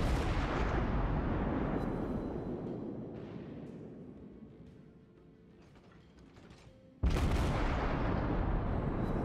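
Heavy naval gunfire from a warship in World of Warships, a dense rumbling barrage that slowly fades over several seconds before a loud new salvo bursts in near the end.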